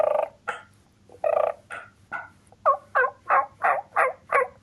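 A human voice imitating wild turkey gobbles, a string of loud, rapid warbling gobble bursts that grow more regular and rhythmic toward the end, heard alone without other talk.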